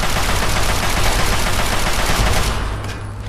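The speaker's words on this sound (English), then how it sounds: "Oh, take out the turret." Sustained rapid gunfire in Fallout 3 while taking out a turret, loud and continuous volleys in dense bursts that fade slightly toward the end.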